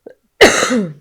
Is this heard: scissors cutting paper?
no